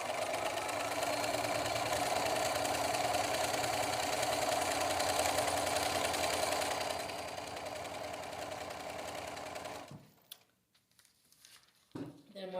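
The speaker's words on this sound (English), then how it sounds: "And we're going to start sewing at the bottom." A sewing machine stitches a paper-pieced quilt block, a fast steady whirring hum that runs loud for several seconds, drops to a lower pace, then stops, leaving a few faint handling clicks.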